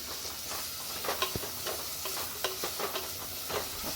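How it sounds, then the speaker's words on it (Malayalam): Sliced onions sautéing in a pan for fish kurma hiss steadily while a spoon scrapes and clatters in quick irregular strokes, fairly close and with no voices. "ഉള്ളി ഒന്ന് വഴന്ന് വരട്ടെ"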